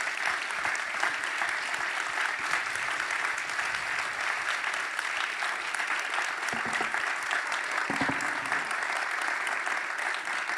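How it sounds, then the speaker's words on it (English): A seated audience gives sustained, dense applause for a panel at a university Reconciliation Week event, steady and full throughout. "I think you can hear from the applause and a couple of people standing in the audience"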